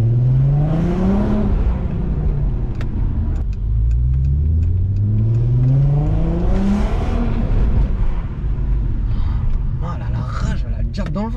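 A Volkswagen Golf 4 R32 engine revs hard while driving, its loud pitch climbing and falling in repeated sweeps as it accelerates, close and continuous, with a voice speaking over it.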